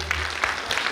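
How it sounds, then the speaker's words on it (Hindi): Audience applause at a live tribute concert for a singer, a brief burst of steady crowd clapping that fills the whole moment at moderate loudness, with faint voices mixed in. "जोरदार तालियां के लिए"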